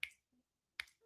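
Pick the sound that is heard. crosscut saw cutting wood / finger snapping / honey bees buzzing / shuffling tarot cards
finger snapping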